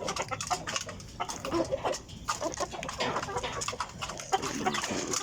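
Backyard breeder chickens cluck and chatter steadily while being fed in the morning, a close flock of overlapping calls with some faint talking in the background.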